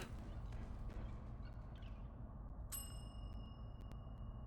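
A bell rung in the video game Skate Story gives a sharp metallic ding with a bright ringing tail, heard once over a steady low rumbling game background, with a fainter later chime.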